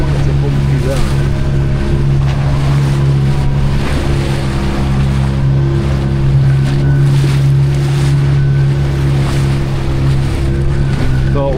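A small motorboat runs to the Blue Grotto in Malta, its engine droning steadily and loud beneath wind buffeting and splashing water on a bumpy sea, with voices faintly underneath.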